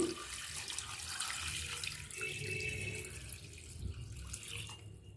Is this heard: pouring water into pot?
yes